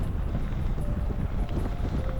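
Strong headwind batters the microphone of a cyclist on a 300 km audax brevet along a North Sea dike toward Westerhever lighthouse, producing a loud, continuous, buffeting rumble with no voices.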